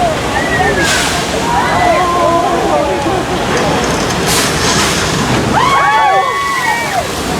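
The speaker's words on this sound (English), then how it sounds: "That flood is actually the result of gallons of recycled water that's held over the top of the hill and then released." Released recycled water floods down a hillside on a studio tram tour, a loud continuous rushing and sloshing with splashes, while a voice talks over it and pitched squeals ring out above the water.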